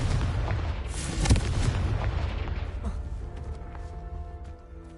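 A Confringo blast spell cast in Hogwarts Legacy lands as a loud, booming burst with a sharp hit near the start, then a rumbling tail that slowly fades under the game's ambient sound.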